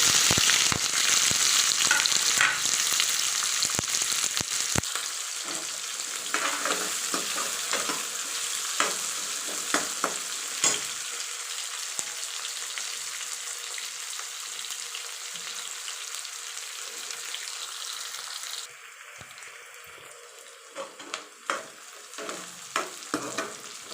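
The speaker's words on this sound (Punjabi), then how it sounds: "ਪਿਆਜ਼ ਨੂੰ ਅਸੀਂ ਬ੍ਰਾਊਨ ਹੋਣ ਤੱਕ ਭੁੰਨਾਂਗੇ ਜੀ" Onions fry in a pan until brown after cumin seeds, a steady crackling sizzle with occasional stirring scrapes, fading somewhat toward the end, no voices.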